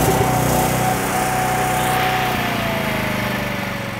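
A Blue Star 185 welder/generator's engine runs steadily and loud and close, a continuous buzzing drone with a faint whine sliding slightly in pitch, no voices.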